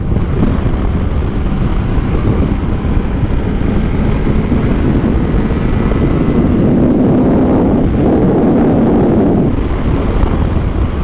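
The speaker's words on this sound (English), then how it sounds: "It's very windy." Heavy wind roaring steadily against the microphone, a loud low rumble with gusts swelling midway.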